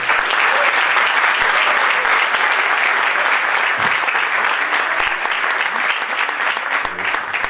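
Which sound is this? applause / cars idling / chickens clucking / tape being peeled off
applause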